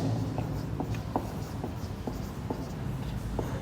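Pen or pencil scratches out notes in short, regular strokes against a steady room hiss, close and fairly quiet, with no voice present.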